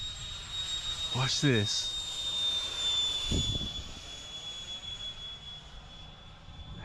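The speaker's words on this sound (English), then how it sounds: "Sounds like a jet. You hear that? Jet sound." A FliteTest Flerken RC jet model flies overhead on its maiden flight, giving a steady high-pitched jet-like whine that carries on at moderate distance, with a person talking briefly.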